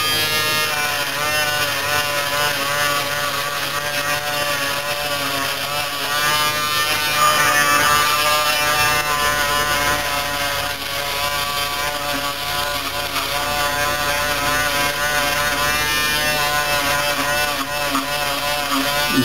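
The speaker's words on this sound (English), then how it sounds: "use the wall bump-free super close shaver that I talked about earlier, and basically turn on this way" A bump-free super close electric shaver hums steadily and loudly up close for the whole stretch, its buzzing tone shifting slightly as it moves along the throat.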